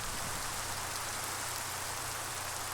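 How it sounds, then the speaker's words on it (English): Steady rain falls at night during a thunderstorm in the Minecraft video game, a constant broadband hiss of drops with no voices, holding even and fairly quiet throughout. "and it's night, and it's raining."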